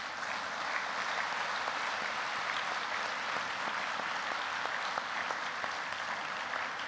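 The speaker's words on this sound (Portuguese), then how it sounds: "a gente desse uma salva de palmas para essa igreja que a gente tanto ama" Church congregation clapping during an evening missionary conference service, a continuous even wash of many hands, soft and distant, with no voices over it.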